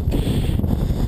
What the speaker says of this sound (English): Very windy as well.